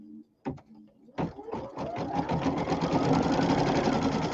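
Embroidery machine stitching leaves onto a pillow, a few hesitant clicks and then a rapid, even mechanical chatter that builds to a steady, close, continuous run.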